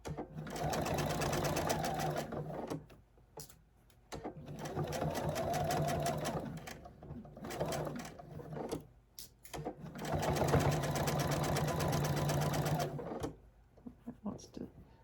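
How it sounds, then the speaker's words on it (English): A sewing machine stitches along a strip of pinned quilting fabric in three long runs, each a steady rapid whirring of several seconds, with short pauses between them while pins are pulled. "I am just going to sew right along here with these pins and pull them as I go"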